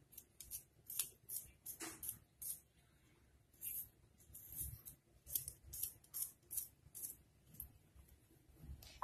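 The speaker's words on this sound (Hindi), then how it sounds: "तो मैं इन प्याजों को इसके अंदर बहुत बारीक तरीके से काट दूंगी" Knife finely chopping onions on a board while preparing raw banana kofta, a steady run of quick, crisp close-up cuts with short pauses between bursts and no talking.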